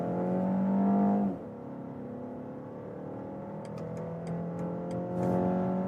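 The petrol engine of a new BMW X1 pulls hard from 50 to 120 km/h, its tone climbing smoothly through a gear change and rising again, heard steadily from inside the cabin.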